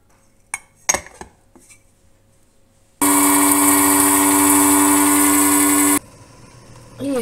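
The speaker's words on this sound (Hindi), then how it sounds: "ये अजवाइन पीसी जा रही है पक्की की" Dried ajwain (carom seeds) whirs in an electric grinder for about three seconds as a loud, steady motor roar, after a few light clinks of handling the jar and before it cuts off abruptly.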